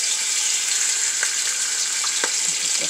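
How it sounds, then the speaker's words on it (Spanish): Chopped beef ribs sizzling in a hot frying pan, a loud, steady close-up hiss with a few small pops and crackles. "Vamos a partir las costillitas de res para guisarlas aquí en el sartén"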